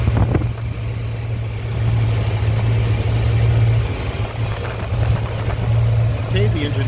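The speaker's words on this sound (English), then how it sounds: "Okay, the engine's running very smoothly." A rebuilt 8.2-liter V8 engine in a 1970 Cadillac Eldorado, fitted with electronic ignition, idles with a steady low rumble that rises and falls slightly, heard up close alongside some clatter and a faint voice.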